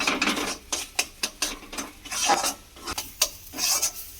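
Green pea paste stirred and fried in a wok, with repeated scraping and clinking strokes of a utensil over a soft sizzle, close and fairly quiet, no voices.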